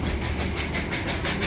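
The Darjeeling toy train running along its mountain railway, a steady rolling rumble with faint rhythmic clatter of wheels on track, continuous and moderately close.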